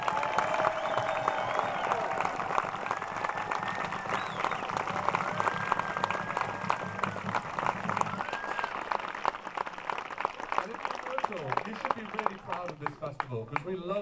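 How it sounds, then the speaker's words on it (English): A festival crowd at the Robin Hood Festival grand finale applauds steadily while a voice talks over it, with music tones lingering through the clapping. "could you give a final, really big round of applause for all the rangers here"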